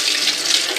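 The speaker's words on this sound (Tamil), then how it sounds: "இப்போ தான் நான் வந்து கொத்தமல்லி எடுத்து அலச போகிறேன் கவர்லேருந்து." Coriander leaves are rinsed under a running kitchen tap, giving a steady, close hiss of flowing water with light splashing for a brief moment.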